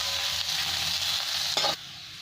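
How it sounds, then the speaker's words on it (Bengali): Beans and carrots hit hot oil for street-style chowmein, producing a steady, bright sizzle with a brief louder scrape of stirring near the end and no voices. "এবার বিনস আর গাজর তেলের মধ্যে দিয়ে দেবো। এটাকে 2 মিনিট ভেজে নেবো"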